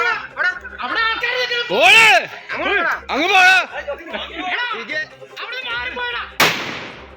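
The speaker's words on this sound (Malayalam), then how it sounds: "പടക്കം പൊട്ടിച്ച് ആനയെ വനം വകുപ്പ് വാച്ചർമാർ തൽക്കാലം തുരത്തിയിട്ടുണ്ട്" Near Athirappilly, forest department watchers burst a firecracker to drive a wild elephant away from the road. Excited voices chatter and call out at first, then a single sharp, loud bang cracks out close by near the end.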